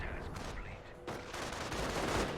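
Artillery fire from a Hummel self-propelled gun in Company of Heroes, a dense battle mix of booming shots and crackling gunfire that rumbles continuously, with a sharp new burst about midway and heavy, loud layered combat throughout.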